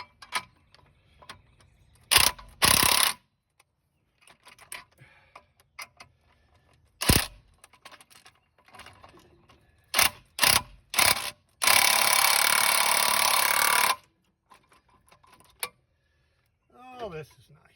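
A ratchet socket wrench works on a car, giving short clicking bursts and then one longer steady run of about two seconds, with quieter pauses between.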